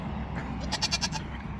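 Goat bleating on a farm paddock, a single short wavering bleat made of a few rapid pulses, fairly close and clear against a steady outdoor rumble, no talking.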